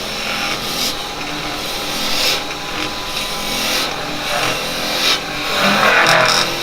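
A round 9mm carbide woodturning tool cuts into spinning wood on a lathe, giving a continuous close rasping, scraping hiss that surges and eases as the tool is pushed straight in.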